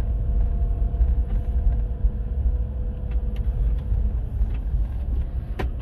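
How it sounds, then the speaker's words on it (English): A 2006 Maserati Quattroporte Sport GT with a salvage title sits parked, its engine idling with a deep steady rumble and exhaust burble, close by, with faint ticks and clicks over the drone. "get some recording of the exhaust and the engine so you can hear it."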